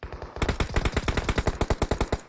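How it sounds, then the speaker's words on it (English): Rapid automatic gunfire in a shooter video game scrim, a dense, steady burst of about twenty loud shots fired close by in quick succession with no talk. "Can they get away from all that gunfire being shot down on them?"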